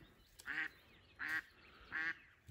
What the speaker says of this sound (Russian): Вот они полетели, уточки-то.